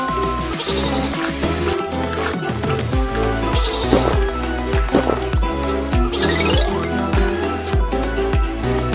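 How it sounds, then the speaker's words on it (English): Cartoonish sheep bleats from sheep on a train track in a children's rescue-team video game sound repeatedly over upbeat game music with a steady bouncy beat, the bleats fairly prominent in the mix. "Some sheep are on the train track."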